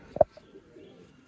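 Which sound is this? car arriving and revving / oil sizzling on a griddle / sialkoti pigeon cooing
sialkoti pigeon cooing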